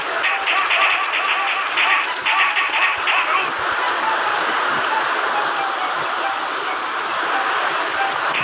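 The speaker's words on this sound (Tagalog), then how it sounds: "Ang lakas pa rin ng ulan sa amin." Steady heavy rain pours without pause, a thick continuous hiss of water throughout, with a faint voice or radio murmuring underneath.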